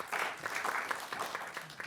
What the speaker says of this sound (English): Another round of applause for that beautiful film that we just saw.